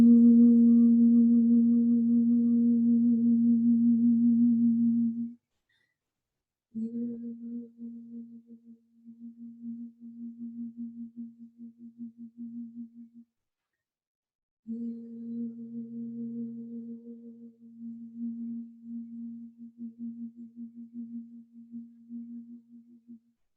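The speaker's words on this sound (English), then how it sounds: "then just start toning with the word hue" A single voice holds a low, steady meditative tone on the word "hue", sustained for several seconds, then repeated in long wavering stretches separated by pauses for breath, close and alone.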